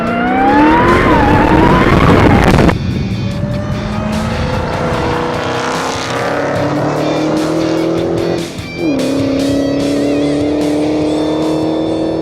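A 2015 Dodge Challenger Hellcat with its massive supercharged engine accelerating hard, a loud roaring rise with supercharger whine, then a long sustained drone with a brief dip as it shifts, close and dominant throughout.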